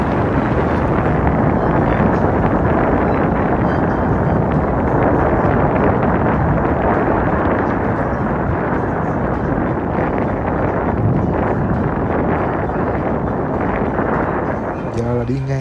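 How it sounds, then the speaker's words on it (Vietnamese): Strong, cold wind near the Golden Gate Bridge, with sailboats on the bay, buffets the microphone in a loud, steady roar that continues without pause, with a voice talking faintly beneath it. "Dù trời rất là lạnh, gió rất là lạnh."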